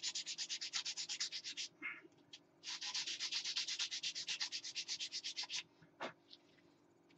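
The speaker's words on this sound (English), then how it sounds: "And just sand a little bit off." A sanding stick rubs a small part for a 1/35 scale model barn in quick back-and-forth strokes, two long rhythmic bursts split by a short pause, close and fairly loud, ending with a few lone scrapes.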